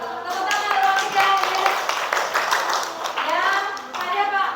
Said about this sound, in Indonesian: Tepuk tangan kelompok 3.